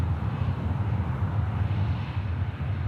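Boeing Dreamliner airliner at Sydney Airport, a steady broadband engine roar heard from a distance outdoors, continuous and fairly loud with light wind buffeting, no voices.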